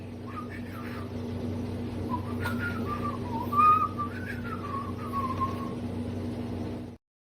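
A person whistles a wandering, tuneless melody over a steady low hum, then the sound cuts off abruptly.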